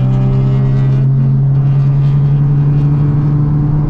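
A racing car engine accelerating flat out on track, a loud steady drone with a strong low tone held without a break for about four seconds, close and continuous.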